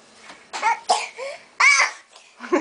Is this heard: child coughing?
yes